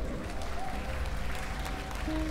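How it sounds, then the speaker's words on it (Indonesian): Audience applause at Synchronize Fest 2016, a music festival in Indonesia, a faint, diffuse wash of clapping from a crowd heard over a low rumble. "tepuk tangan buat perhelatan ini."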